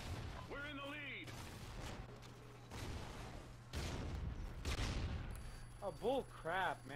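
Gunfire from the video game Call of Duty: Ghosts bursts out in several loud volleys, heard under excited talk from a player.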